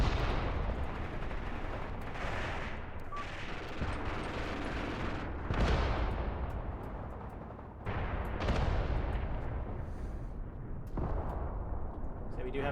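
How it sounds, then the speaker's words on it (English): Mortar shells exploding in the war strategy video game Graviteam Tactics, a continuous rumble of booming blasts and crackling fire with several heavy impacts recurring every few seconds, mid-distance and loud. "So we do have mortars dropping over here."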